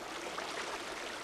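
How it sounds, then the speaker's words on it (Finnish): The river Santajoki flowing, a steady broadband rush of moving water that holds an even level throughout with no voices over it. "Mutta joki, se virtaa edelleen."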